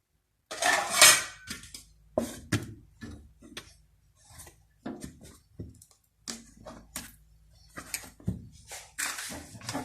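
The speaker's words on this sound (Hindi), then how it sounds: "ऊपर हल्की सी भारी चीज रख देती हूँ, बेलना रख देती हूँ" A flat iron griddle and a wooden rolling pin set down on a covered pot of chana dal pulao, giving a string of close metallic clanks, knocks and clatters that come in irregular bursts.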